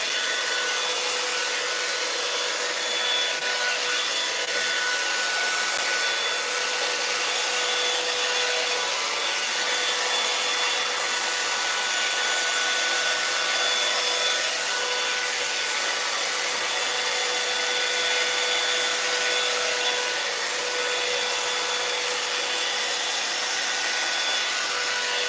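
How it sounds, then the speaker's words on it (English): Hair dryer blowing continuously at close range while styling a sew-in weave, a loud, steady broadband roar with a faint high whine and no talking throughout. "And I'm blow drying it to the front to get more volume in the front."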